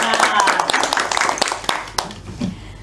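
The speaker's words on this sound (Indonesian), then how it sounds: "Oke, beri tepuk tangan untuk kalian semua." Classroom students clap together in a microteaching lesson on social studies, a scattered burst of hand claps fading over a few seconds while a teacher's voice talks over it.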